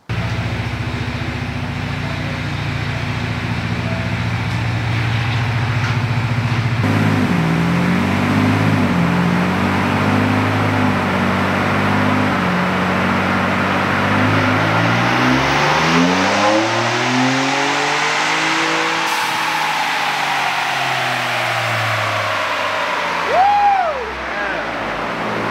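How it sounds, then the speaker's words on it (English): A 2021-or-later Ford Bronco fitted with a Whipple Stage 1 supercharger kit, replaceable air filter and Megacooler intercooler revs on a dyno, a loud engine climbing through a long pull to a high wail before dropping back, then a brief blip. "making power with the Lethal Bronco and the Whipple Stage 1 kit"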